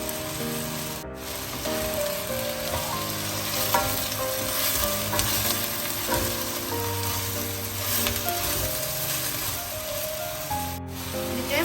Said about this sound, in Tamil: கொஞ்சமாக கேரட் பட்டாணி பச்சை மிளகாய் சின்ன சின்ன நான் வெட்டி வச்சுருக்கிறேன் இது மூண்டையும் சேர்த்து கொஞ்சம் நேரம் வளர்ந்து விட போகிறேன்